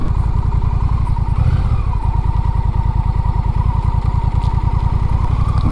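A Honda Rebel 1100 motorcycle rumbles at low speed on gravel while making a U-turn, its loud, steady, pulsing engine close by throughout with a slight rise partway.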